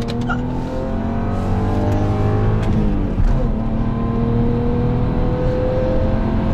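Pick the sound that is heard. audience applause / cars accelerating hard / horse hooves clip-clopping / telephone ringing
cars accelerating hard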